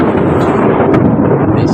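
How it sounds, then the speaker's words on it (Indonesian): Thunder roars as a loud, dense broadband rumble that holds steady and fills the whole short stretch without a break. "yang namanya petir itu suaranya begitu itu"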